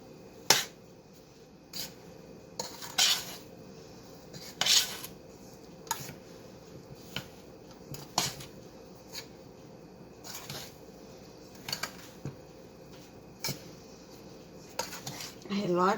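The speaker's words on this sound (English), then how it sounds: "And now I'm going to put it in the blueberry mixture. Stir it all in a little bit." Blueberry pie filling mixture being stirred in a pot, with scattered faint utensil clinks and scrapes against the side over a low room hum, no talking.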